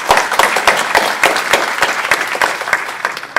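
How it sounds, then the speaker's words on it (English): Loud, dense applause from a conference audience thanking the volunteers, many hands clapping steadily and close for several seconds with no talking over it. "please give them all a round of applause"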